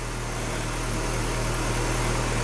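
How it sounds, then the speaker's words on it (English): A 2012 Mini Cooper sits idling after a remote start, its engine giving a steady, even hum at close range with a low rumble underneath and no voices. "The vehicle will be running for 15 minutes before the car shuts off"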